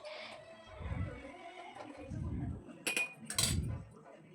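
A spoon stirs vermicelli cooking in milk in a pot, making three soft, rhythmic scraping strokes with light metallic clinks against the pot, fairly quiet and close.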